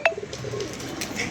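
A pigeon coos close by in a short low murmuring phrase, faint over a soft background hiss, with a brief sharp chirp at the very start.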